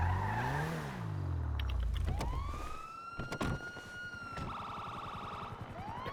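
A police car siren in the video game GTA V, wailing and rising over a rumbling engine and a skid, then alternating tones, with sharp impacts in the middle.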